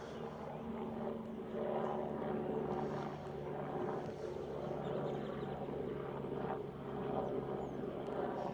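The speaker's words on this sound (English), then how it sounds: "helicopter" Outdoors, a helicopter flies overhead, its rotor and engine drone steady and fairly distant, swelling and fading slightly, with a quiet voice briefly present.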